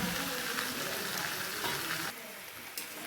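Onion and capsicum fry with chilli chicken in a pan, making a loud, dense sizzle with stirring scrapes. The sizzle drops in level for the last second, and a brief clatter follows.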